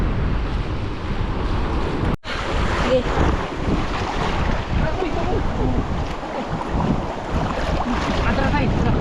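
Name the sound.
ocean waves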